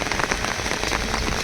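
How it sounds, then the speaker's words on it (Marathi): Heavy, continuous rain falls near the Ghod river bridge at Pimpalgaon Khadki during flooding, a dense, steady hiss of drops on surfaces with no pauses. "संततधार पाऊस चालू असल्यामुळे घोड नदीला पूर आला आहे"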